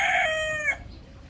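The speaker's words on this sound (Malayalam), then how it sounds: "പൂവൻകോഴി" A rooster in the animal enclosures at Mushrif Park crows once, close and clear, with the call's tail ending abruptly against faint background noise.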